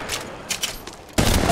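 Apex Legends Mobile gunfire, a few faint rapid shots followed by a sudden loud burst near the end, close and abrupt.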